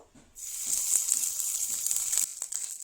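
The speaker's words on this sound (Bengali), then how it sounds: "আদা আর কাঁচা লঙ্কাটাকে ভেজে নিয়েছি 1 মিনিটের মতো।" Ground ginger and green chili paste frying in oil with whole cumin, a close hissing sizzle that bursts in suddenly and holds steady, dotted with small pops and crackles, then tapers slightly near the end.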